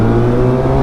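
Kawasaki ZX10RR sport motorcycle engine revving up close and loud, a strong steady growl with layered harmonics lasting under a second, no talking.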